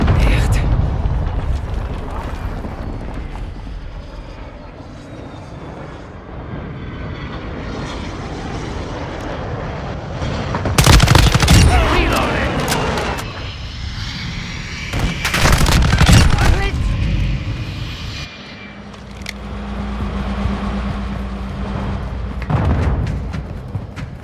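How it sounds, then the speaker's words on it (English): Video game gunfire mixed with aircraft engine noise, with a low drone broken by several loud bursts of shots and explosions, and a voice speaking at points. "Taking effective fire!"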